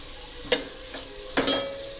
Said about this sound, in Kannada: ಇದೊಂದೆರಡು ನಿಮಿಷ ಚೆನ್ನಾಗಿ ಫ್ರೈ ಮಾಡ್ಕೊಳ್ಳೋಣ